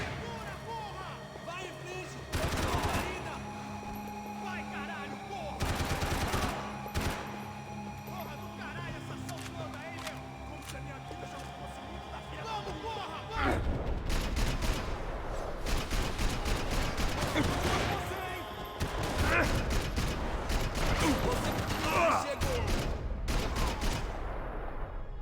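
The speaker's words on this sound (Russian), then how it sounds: "Самая долгая стрельба в прыжке." Gunfire in the video game Max Payne 3 during a slow-motion jump: bursts of repeated shots, sparse at first then dense and loud for the second half, with a voice speaking over parts of it.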